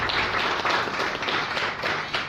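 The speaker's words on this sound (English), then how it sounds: "A big, big round of applause for Sucheta." Sustained audience applause at a fitness expo in India as a Zumba educator is welcomed, a steady dense wash of many hands clapping without a break, fairly loud and close.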